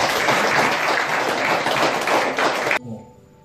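An audience at a year-end gathering applauds with steady, dense clapping for nearly three seconds, then it cuts off and only a faint hum remains.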